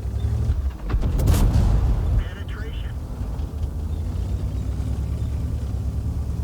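Artillery fire in World of Tanks on the Serene Coast map, a heavy boom near the start that rumbles out over a steady engine drone, with a voice talking over it.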